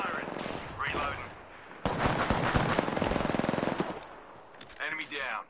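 Bursts of machine-gun fire in a video game ring out in several loud volleys, with a long sustained rattle in the middle and brief pauses between, alongside a game voice speaking.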